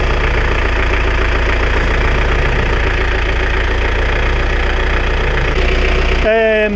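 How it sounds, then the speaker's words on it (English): A boat or vehicle engine fitted with two alternators runs at a steady idle, loud and close. The low rumble and knocking stay constant throughout and change briefly right at the end. "I'll tell you what, let me turn the engine off."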